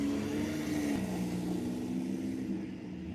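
A car with a loud, unrepaired exhaust rumbles past, a steady low engine drone that fades slightly toward the end, heard alone with no talk.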